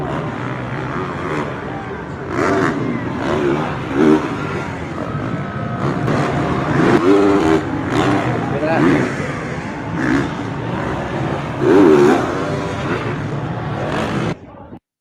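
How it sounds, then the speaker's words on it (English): Dirt bike engines rev up and down repeatedly in rising and falling surges, fairly loud and close, with some voices talking in the background. "it's just basically listening to the revs between the two"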